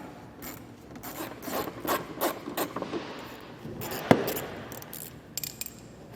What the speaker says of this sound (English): We'll start by removing those screws and just setting them to the side.